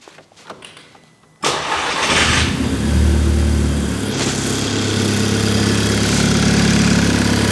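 A VW Golf Mk5 GTI engine cranks and catches after a moment of quiet, then settles into a loud, steady idle close by with a slight rise partway through.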